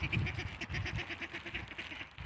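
A group of wild ducks quacks in a rapid, rhythmic run of nasal calls while they drink water outdoors, fairly close and moderately loud.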